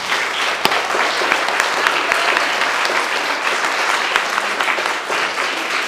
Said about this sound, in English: give a warm applause to Jennifer for her gratitude.